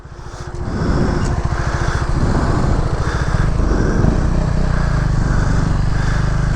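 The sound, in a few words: motorcycle riding on the road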